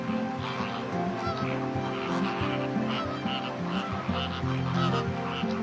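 A flock of greater flamingos calls at Nemmeli wetland on the coast. Many goose-like honks overlap in a continuous, fairly near chorus, with no voices.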